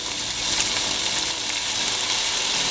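Ground beef with gochujang, garlic, soy sauce, salt and pepper sizzling steadily in a pan while being stirred, a dense bright crackle that holds unbroken throughout.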